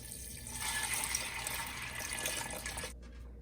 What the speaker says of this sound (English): So we set our pot of beans on the stove, and we're going to add in first 6 cups of water.